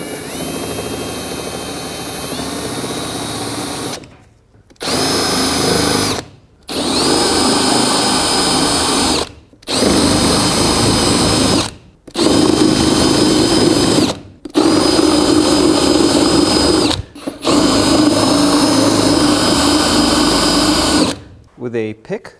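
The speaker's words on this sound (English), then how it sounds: "with the supplied drill bit, drill out all these rivets that hold in the door handle" Handheld drill boring out the rivets that hold an inner door handle in the door of a 2007-14 Chevy Silverado, running in about six steady whining bursts that each last a couple of seconds, with brief pauses between them and talking throughout.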